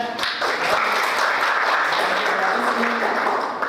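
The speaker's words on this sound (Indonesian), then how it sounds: "Kasih aplaus untuk teman Anda." Classroom applause for a student who answered correctly in an Indonesian lesson on LED circuit components; steady, dense clapping from many hands fills the whole stretch at moderate loudness, with no talk over it.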